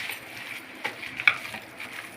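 Chicken momo stuffing with coriander leaves being mixed in a bowl, soft wet stirring and squelching with a couple of light taps, quiet and close, no talking.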